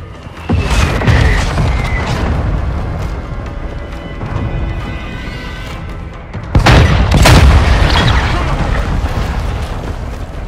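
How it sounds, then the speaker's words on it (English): Friendly mortar strike in Call of Duty: Modern Warfare II: loud, heavy booms landing in a rolling series, with a dense cluster of blasts late in the clip. "Friendly mortar strike inbound."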